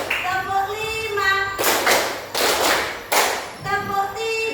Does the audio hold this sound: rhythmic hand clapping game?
yes